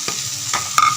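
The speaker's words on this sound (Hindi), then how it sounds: "चिकन ऐड करेंगे।" Chicken and capsicum stir-fry in a hot pan with cabbage, a steady close sizzle broken by three quick scraping stirs of a spatula and no speech.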